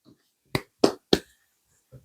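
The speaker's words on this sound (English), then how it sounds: "Again, with the clapping." Three sharp hand claps, close and loud, are spaced evenly about a third of a second apart, with a softer tap just before and another after.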